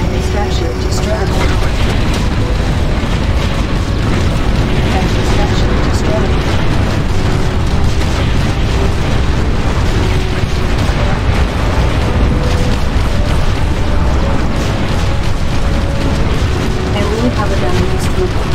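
A structure blows up in the strategy game Ground Control, heavy rumbling blasts and booms running loud and steady beneath a spoken game announcement.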